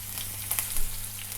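Four chopped green chillies sizzling in hot oil with mustard seeds, cumin and curry leaves in a pan for lemon rice, a steady close hiss with a few brief spits.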